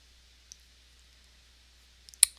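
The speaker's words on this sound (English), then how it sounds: "Click OK." Sharp computer mouse click on an OK button in Adobe Illustrator, preceded by a couple of softer clicks, close and alone against quiet room hiss.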